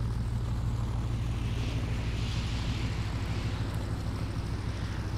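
The Savoia-Marchetti SM.79 plane in the Stormworks video game, its engine throttling up into a steady, loud propeller drone that holds without a break.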